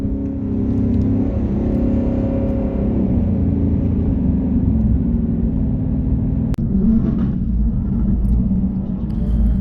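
2019 Mustang GT cruising off throttle down a drag strip, a loud steady engine rumble and road whir that holds throughout, with one sharp click near the end.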